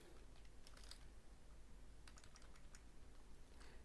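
Quiet keystrokes tapping on a computer keyboard in irregular bursts, fairly faint against low background hum with no voices.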